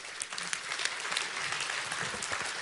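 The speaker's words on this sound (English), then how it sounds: "Give everybody a hand." A large seminar audience claps together in sustained, dense applause that stays steady throughout, heard from within the crowd with no one speaking over it.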